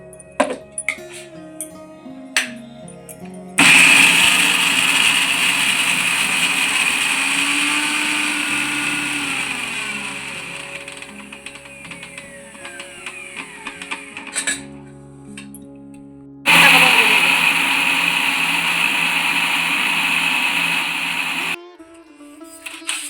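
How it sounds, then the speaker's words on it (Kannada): A kitchen mixer grinder grinds coconut in two loud, sustained whirring bursts, each lasting several seconds and separated by a short pause, with quieter clinks and handling noises before and between them. "ಈಗ ಕಾಯಿನ ರುಬ್ಕೊಂಡು ಬರ್ತೀನಿ."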